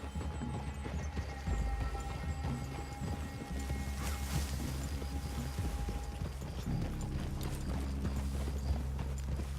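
Several horses in Red Dead Redemption 2 walk with steady, overlapping clip-clop hoofbeats over a low ambient hum, continuous and fairly close throughout.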